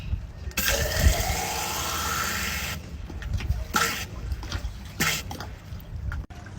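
Water gushing into a GoSun water container aboard a boat, a steady rushing pour that breaks into splashes and gurgles as it fills, close by.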